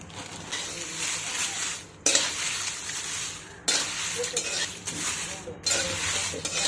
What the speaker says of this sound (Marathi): आता याच्यामध्ये मिरच्या मी थोड्या थोड्या करून परतून घेणार आहे, कारण कढई छोटी आहे